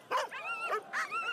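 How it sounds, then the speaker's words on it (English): Excited sled dogs bark and yip at the Iditarod sled dog race start, a few close, loud barks in quick succession with whining tones between them. "Did I mention barking?"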